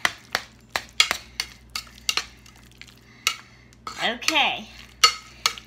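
Potatoes being stirred with melted brown butter: a spoon repeatedly scrapes and clinks against the pot in an uneven rhythm, close and clear, with a brief spoken word.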